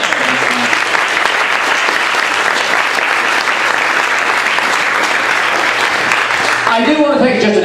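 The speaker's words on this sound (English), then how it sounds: "let's give everybody a big round of applause." An audience at an expert panel for the 2011 UROC 100 ultramarathon breaks into loud, sustained applause close by, an even roar of clapping that carries on throughout, with a voice coming in at the very end.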